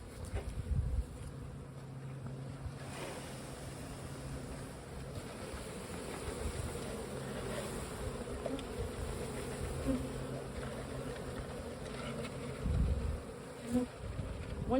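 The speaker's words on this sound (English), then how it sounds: "Now we're just going to take the rest of our bees and shake them in." A dense, steady buzz of a package of honey bees being shaken into a hive, with a couple of dull thumps and rustles as they tumble in.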